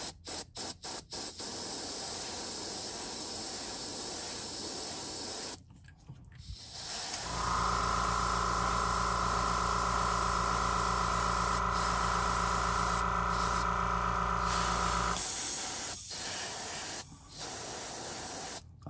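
A fishing lure is spray painted with an airbrush in short hissing bursts, then a long steady spray with a humming compressor tone underneath, then more brief spurts.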